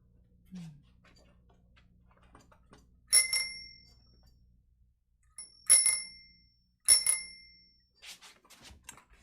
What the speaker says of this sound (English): if he rings this bell, it's supposed to summon Don Cheadle